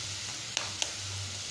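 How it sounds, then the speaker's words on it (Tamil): Eggs cracked over cauliflower frying in a pan, two sharp distinct taps over a steady close sizzle. "இப்போ வந்து ஓப்பன் பண்ணிட்டு நம்ம இப்போ லாஸ்ட்டாக முட்டை உடச்சி ஊற்றிடலாம்"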